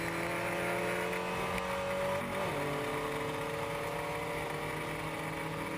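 A race car at full throttle during a 24-hour endurance race, a continuous loud engine drone with a sustained high pitch that shifts slightly as the car pushes hard, with no voices.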